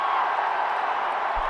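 A cricket stadium crowd roars for a Virat Kohli drive in an England versus India one-day match, a broad, sustained cheer that stays level and loud throughout.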